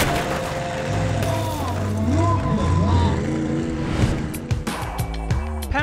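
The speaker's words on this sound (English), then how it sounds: "the world's first monster truck and trailer, which we designed to be able to crush the cars" Monster truck with a big block Chevy V8, three-speed automatic and Michelin Mega X tyres, pulling a trailer: a loud engine rumble with rising and falling revs under a voice talking throughout.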